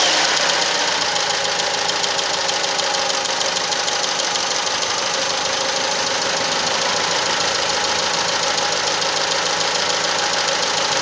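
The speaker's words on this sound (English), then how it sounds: "it makes a weird ticking sound when it starts" A car engine just after startup, idling steadily with a rapid mechanical ticking or knocking running through its constant close, loud hum; no voices.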